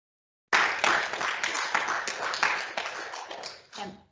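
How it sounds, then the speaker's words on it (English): An audience applauds at the end of a talk on environmental human rights: a dense burst of many hands clapping starts abruptly, holds steady for about three seconds, then thins out and stops. "you did get a round of applause there at the end there"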